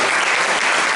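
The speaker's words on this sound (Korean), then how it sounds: "박수 한번 쳐주시기 바랍니다." An indoor audience at a book launch for a teacher's new book claps together in a brief, dense burst of steady applause.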